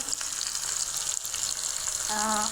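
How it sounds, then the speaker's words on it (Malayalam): Fish frying in oil in a frying pan, with ginger and garlic, giving a steady close hiss and crackle of sizzling throughout, and a brief tonal hum appearing near the end. "ഫ്രീ ഫാനാണ്, അതിലിട്ട് പൊരിക്കാനൊക്കെ എണ്ണ ഒഴിച്ചതിൻ്റെ ശേഷം മീനിട്ട ശേഷം"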